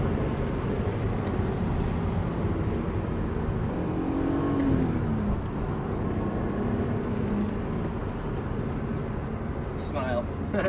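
A Techno Violet BMW E36 M3 with over 200,000 miles on it drives along a quiet test road, giving a steady, loud engine and road drone heard from inside the cabin, with no clear revving peaks.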